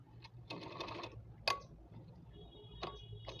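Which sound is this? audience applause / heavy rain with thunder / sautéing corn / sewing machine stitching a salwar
sewing machine stitching a salwar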